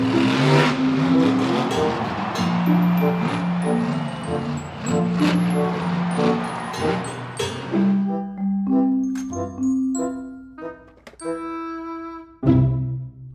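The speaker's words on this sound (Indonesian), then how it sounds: "Mobil truk monster." A toy monster truck gives off an electronic engine-revving effect with tonal, jingle-like notes, loud and close, settling into separate bursts and beeps toward the end.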